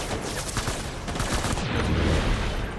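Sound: gunfire in the video game Death Stranding

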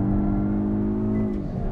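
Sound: hot hatch engine revving near the rev limiter on a race track

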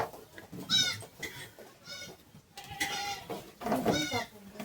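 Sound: sheep bleating

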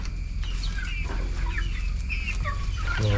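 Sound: chickens clucking

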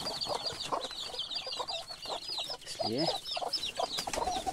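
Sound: chickens clucking in a village coop

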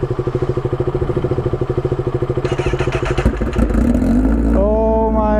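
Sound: Honda CBR1000RR Repsol motorcycle engine revving

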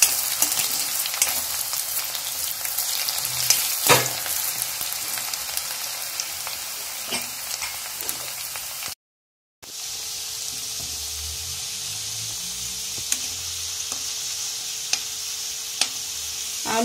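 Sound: potatoes frying until golden brown

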